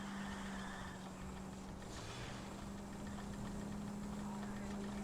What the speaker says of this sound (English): So the car sounds terrible.